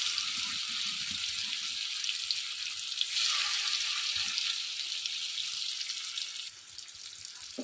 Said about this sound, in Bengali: পনিরগুলোকে এবার আস্তে করে ভেজে নেব